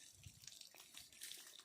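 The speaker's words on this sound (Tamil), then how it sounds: "இங்கே தண்ணி லீக் ஆகி போயிட்டு இருக்கு." Water leaks from a tap at an outdoor spot where mangoes are being handled, giving a faint, continuous splashing trickle with no voices.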